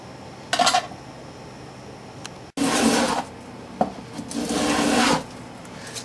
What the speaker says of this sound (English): just start sanding these with the sandpaper, I'll do all the braces and just get them down to this rough shape